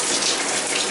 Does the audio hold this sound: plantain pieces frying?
no